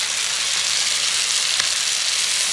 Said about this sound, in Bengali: আর কাজু বাটাটা এবার আমি এই মশলার সাথে দিয়ে দিচ্ছি